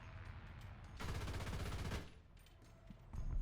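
A JagdPanther tank's machine gun fires a sustained burst in a World War II combat game, a loud rapid rattle lasting about a second amid distant battlefield noise.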